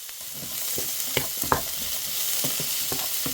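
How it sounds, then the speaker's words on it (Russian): Minced garlic sizzles and fries with a vegetable sauté for pumpkin soup, a steady close hiss broken by a few sharp crackles and stirring scrapes, with no talk. "И чеснок добавляем в поджарку."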